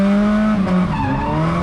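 A Nissan SR20 engine in an S14 drift car revs hard and steadily, whining high and loud with a tire squeal riding over it, close and continuous.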